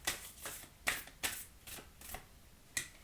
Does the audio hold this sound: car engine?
no